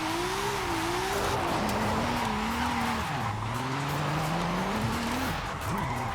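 A 2JZ-swapped Nismo replica car drifts in Forza Horizon 5, its engine droning and wavering in pitch as the revs rise and fall, with steady tire squeal and skidding noise running loud and continuous throughout.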